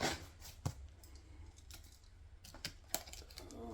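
A knife cuts open a package containing an AR15 rifle, an Anderson AM15 Compact .223, making faint, close scratchy slicing and scraping sounds with scattered sharp clicks and crinkles.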